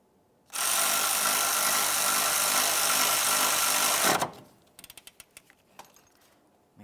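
A power tool snugs up the bolts on a 2011-2018 Volkswagen Jetta timing belt tensioner, whirring loudly and steadily for a few seconds before stopping, followed by several quick clicks and clanks.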